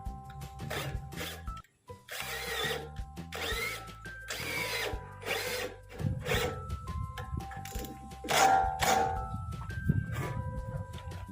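A power tool drives a bolt while mounting an intercooler on a 2019 Isuzu D-Max 1.9, heard as intermittent whirring bursts with metallic rattling and scraping, fairly quiet and close, with no speech.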